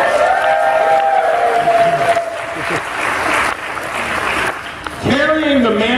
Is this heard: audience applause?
yes